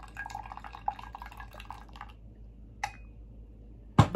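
Wine trickles and drips as it pours from an air pump wine opener into a glass, a faint liquid patter for about two seconds, followed by a couple of sharp clinks.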